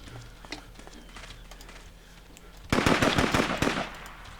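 Rapid bursts of automatic gunfire from the video game Nomad during a base raid, loud and close, a dense volley lasting about a second and a half after a quieter stretch of game ambience.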